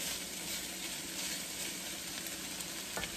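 Sausage sautés in a pan for a jambalaya bake, giving a steady, close hiss and crackle of frying with a single faint scrape near the end.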